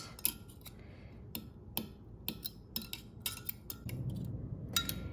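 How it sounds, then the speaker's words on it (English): Egg and liquid for Cantonese silken steamed egg are stirred in a bowl, with a utensil tapping and clinking against the bowl in light, irregular clicks. The sound is close and clear, with no voices. "Then I'm going to start stirring it."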